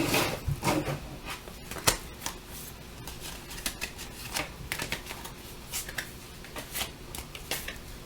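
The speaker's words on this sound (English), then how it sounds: "I'm going to shuffle these traditionally here real quick." Tarot cards being shuffled by hand in a traditional overhand style, a steady run of crisp papery riffles and soft slaps close to the microphone, with no one talking.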